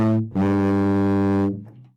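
A tuba plays a sustained low note from the Thomas the Tank Engine theme, then a second long, rich, buzzy brass tone that swells and fades, close and loud with no talking.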